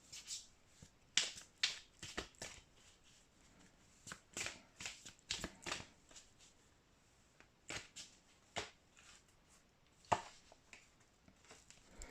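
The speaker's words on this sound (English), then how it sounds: "let's shuffle some tarot cards" Tarot cards are shuffled in repeated quick riffles and soft flicks, crisp and close, coming in bursts with short pauses between.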